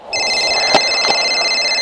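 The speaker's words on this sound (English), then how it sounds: "Is that your phone?" A telephone rings steadily with a bright electronic tone, close and clear, alone with no voices.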